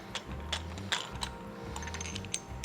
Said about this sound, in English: So we take this bolt out here.